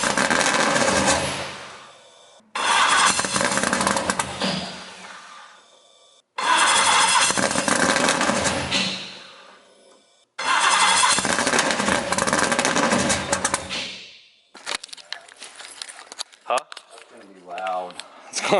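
BMW E46 Formula Drift Pro 2 car firing up for the first time: three loud, close bursts of cranking and roaring engine, each cut off abruptly by silence, then sputtering, uneven running with a voice over it.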